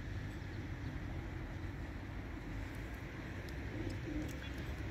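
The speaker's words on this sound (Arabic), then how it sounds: "هما أربعة الحمامات آخرين الإخوان من التدريب." Racing pigeons return to the loft from a 60 km training flight, soft cooing and wingbeats sit low in a steady outdoor wash of broadband noise, with no talk.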